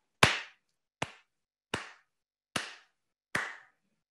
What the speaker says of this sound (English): And so you watch when I clap.